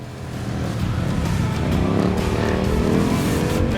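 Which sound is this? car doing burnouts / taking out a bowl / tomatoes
car doing burnouts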